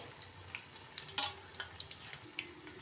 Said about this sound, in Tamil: எல்லாமே மீடியம் ஃப்ளேமில் வச்சு பொறிச்சு எடுத்துக்கோங்க